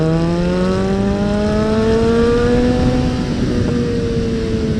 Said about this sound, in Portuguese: Estremece o quarteirão desse escapamento.